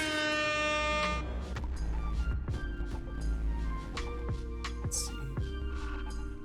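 Air horn sound effects go off during a live game stream, several long blaring tonal blasts that start loud and repeat with shorter honks and toots, with a faint voice underneath.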